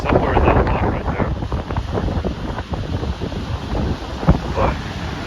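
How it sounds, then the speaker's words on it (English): Strong wind blowing across a gorge overlook at Croton Gorge Park, a loud continuous buffeting rush against the microphone with gusty surges and occasional thumps. "Up on the perch, and I can feel so much wind here."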